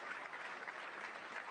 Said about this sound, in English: Look at the people on the Democrat side that actually get up and clap.